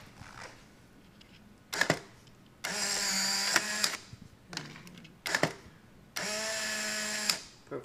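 A Polaroid SX-70 instant camera fires with a sharp shutter click, then its motor whirs for about a second to eject the print. The click-and-whir cycle repeats twice, close up and clear against a quiet room.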